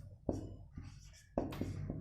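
A pen scratches on paper as a Class 7 maths exercise is worked in a notebook, with two sharp stroke onsets and softer scribbling between them, close and fairly quiet.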